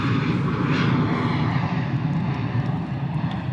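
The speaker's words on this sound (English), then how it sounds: "Wow, super sneaky little private jet coming in there." Steady, loud engine roar of a Cessna Citation Mustang private jet coming in to land at misty London Luton Airport, a broad continuous rush that holds level throughout with no voices.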